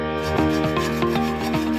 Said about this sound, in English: I'm going to scrape this out as best I